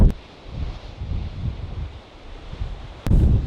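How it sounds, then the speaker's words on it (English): Wind blows across a coastal cliff on a rainy day. Low, rumbling gusts buffet the microphone, rising and easing in uneven surges, with a sharp louder gust at the end and no voices. "Oh, it's getting breezy out here."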